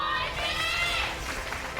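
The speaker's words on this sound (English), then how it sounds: "Big cheer out there for Trap." A crowd cheers at a StarCraft esports match, a broad sustained roar of voices in a large venue.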